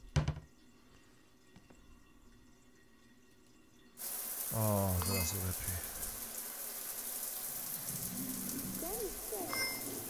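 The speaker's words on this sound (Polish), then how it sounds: "Moment, wezmę sobie prysznic" A shower starts running in the video game Shadows of Doubt, a sudden steady loud hiss of water that keeps going to the end, with someone speaking over it.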